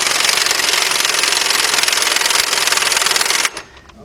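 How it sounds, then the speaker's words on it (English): Pneumatic impact gun with a 19mm deep socket on a half-inch drive hammers at a harmonic balancer bolt on a 1994 Honda Accord 2.2, a loud rapid rattling burst of about three and a half seconds that stops abruptly. "Get my air gun over here"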